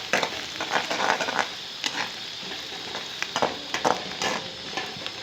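Onions and garlic frying in a pan for an aloo palak dish are stirred with a spoon, giving a steady sizzle broken by repeated scraping strokes; no one speaks.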